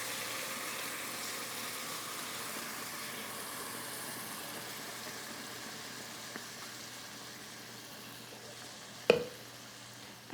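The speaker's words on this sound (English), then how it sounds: "Now I'm gonna add our tomato mix." Tomato mix sizzles softly in hot ghee and oil with spices, a faint continuous frying hiss with a sharp clack of a utensil near the end; no talking.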